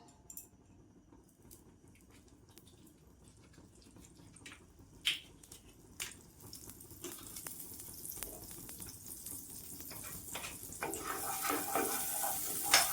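Makhana (fox nuts) fry in a spoonful of butter in a kadai, a faint crackling sizzle with scattered pops that swells louder and busier toward the end.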